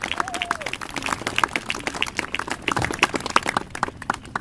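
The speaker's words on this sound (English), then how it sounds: "Let's give them a round of applause" A school ceremony crowd claps for volunteers from the Regional Support Office, lively and fairly close, with a brief faint voice near the start and the claps thinning toward the end.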